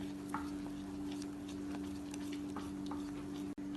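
A spoon scrapes and ticks softly and steadily around a pan of milk and ghee, with a faint low hum underneath and no talking.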